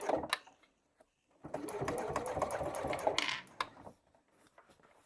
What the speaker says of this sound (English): I'm just going to sew down the straight section